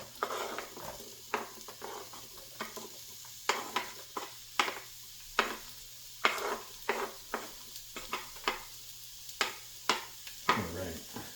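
Chopped onions go into a warmed frying pan for a homemade pasta meat sauce, giving a soft, steady sizzle. Regular scraping, clinking strokes of a utensil against the pan ring out clearly above it.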